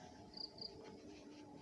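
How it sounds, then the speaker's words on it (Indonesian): Crickets chirp faintly at dusk in an old cemetery in Banten, with two short, high chirps over soft, hushed outdoor ambience. "Ya tahu, jangkrik."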